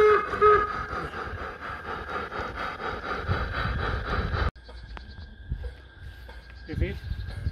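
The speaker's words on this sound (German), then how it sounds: "Die erste Lok fährt nun auf den oberen Bahnhof ein." A small LGB garden railway steam locomotive rumbles along with steady clattering and a faint whistle-like tone, loud at first, then dropping to quieter running with scattered clicks.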